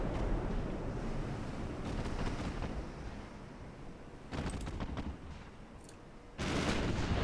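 Naval guns firing high explosive rounds in the warship game Ultimate Admiral Dreadnoughts, a low rumbling barrage with bursts of heavy booms, fading slightly midway and then surging back loud near the end.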